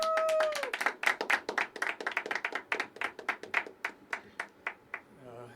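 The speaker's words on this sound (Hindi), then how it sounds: "जोरदार तालियां फॉर जय।" An audience at a poetry open mic claps in a brisk burst that thins into scattered, slower claps before fading out.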